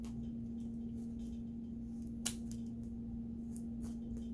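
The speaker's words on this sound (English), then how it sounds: "snip, snip." Scissors snip through bouquet materials for a Gatsby-style reversible wedding bouquet: a series of small, close cuts, with one sharper, louder snip midway and lighter clips around it, over quiet room hum.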